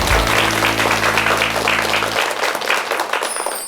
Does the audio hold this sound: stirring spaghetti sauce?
no